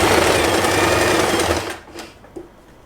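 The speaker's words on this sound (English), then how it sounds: "I have to stop sewing and leave an opening and start sewing again from here." A sewing machine stitches fabric for a double stacked hair bow, running in a steady loud whir for about a second and a half before stopping, followed by a few faint handling clicks.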